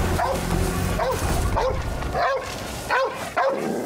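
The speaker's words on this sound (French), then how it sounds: "Le chien a repéré quelque chose." A dog barks repeatedly in a scene from The Last of Us TV series, several sharp woofs and yips spaced across a few seconds, mixed with whimpering and faint background sound.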